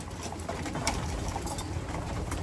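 Pigeons cooing in a loft on a cold morning, a steady low murmur of calls with a few brighter flutters and rustles, fairly close and continuous throughout, with no voices.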